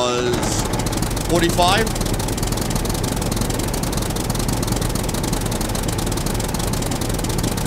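A tractor engine running in the survival game SCUM, a steady, loud, rattling drone under a man's brief speech.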